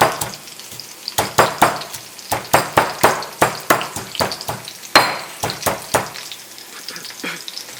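Prawns shallow fry in a pan, sizzling steadily under a rapid series of sharp clinks and scrapes as they are stirred and turned, loud and close with no talking.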